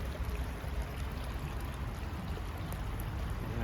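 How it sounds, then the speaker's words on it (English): A waterfall pours steadily into a koi pond in a garden, making a dense, continuous rushing and splashing wash that stays close and even throughout, with no voices over it. "There's a waterfall underneath, and see the fish shaded underneath."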